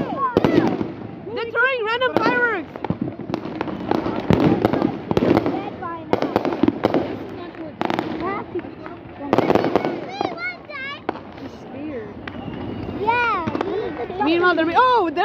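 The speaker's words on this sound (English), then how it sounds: "they're throwing random fireworks and it's going." New Year's fireworks crackle and pop repeatedly at irregular intervals amid excited voices of several people, with sharp bangs scattered throughout.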